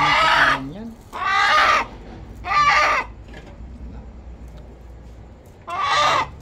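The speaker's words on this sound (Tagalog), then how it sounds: "Kaya ang ingay no? Labuyo kasi yan eh." Native labuyo chickens, red junglefowl, squawk loudly in four harsh bursts while being caught, with quieter gaps between them.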